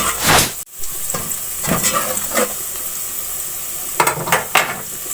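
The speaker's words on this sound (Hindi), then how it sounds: "अब लहसुन को मैं थोड़ी देर भून लूंगी।" Garlic paste frying in a pan while cooking degi aloo, a steady close sizzle with a few scraping stirs and knocks of the spoon against the pan, no talk.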